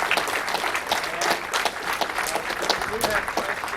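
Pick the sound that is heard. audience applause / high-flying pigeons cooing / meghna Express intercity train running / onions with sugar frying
audience applause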